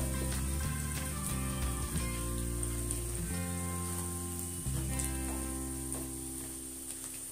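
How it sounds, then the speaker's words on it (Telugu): Garlic cloves frying in a generous amount of hot oil give a steady, dense sizzle throughout, close up and continuous, with faint utensil sounds and no speech. "ఈ వెల్లుల్లి రెబ్బలు మనకి గోల్డెన్ బ్రౌన్ కలర్ వచ్చే వరకు ఫ్రై చేసుకోవాలి"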